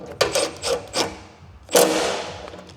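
Bolts on a Yard Machines rototiller are tightened with a hand tool, giving three close scraping, knocking strokes followed by a longer louder rasping pull.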